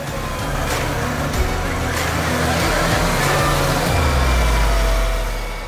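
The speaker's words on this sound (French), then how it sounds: "Avec 2 puissants tracteurs John Deere 8R 370 chevaux, le maïs est poussé dans le silo, puis compacté." Two John Deere 8R 370 hp tractors push and compact maize silage in a silo, their engines droning and revving continuously with a rising low rumble near the end.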